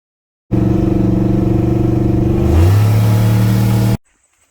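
A turbocharged car with a boost leak, fitted with a bypass valve that has been tied shut, drones steadily from inside as it drives, and its engine tone drops lower partway through before cutting off abruptly after about three and a half seconds.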